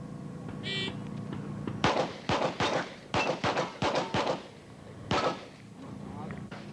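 Rapid strings of pistol shots ring out at a Steel Challenge shooting competition in 1988, five to six sharp close reports in quick succession, a pause, then one more shot, over a faint background hum.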